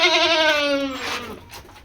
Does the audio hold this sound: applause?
no